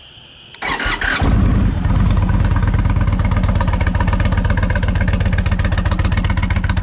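2019 Indian Chief Dark Horse motorcycle starting up after a starter whir, then settling into a loud, close, throaty idle with a steady rapid pulsing rhythm.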